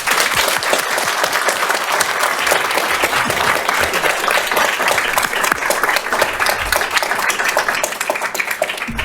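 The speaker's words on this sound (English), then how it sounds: "please join me in a big round of applause for all of our candidates" An audience at an election forum claps steadily for all the candidates, a dense, loud, even round of applause that carries through without speech over it.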